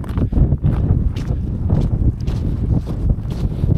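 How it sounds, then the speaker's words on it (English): Strong wind buffets the microphone on the summit of Skybarrow Dodd in winter, a loud, continuous low roar with gusty surges and no speech. "because the wind's coming from behind me"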